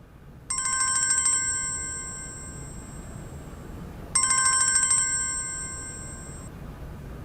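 A mobile phone ringtone plays two electronic ringing bursts of about a second each, several seconds apart, close and clear over a quiet room, and the call goes unanswered, with no talk.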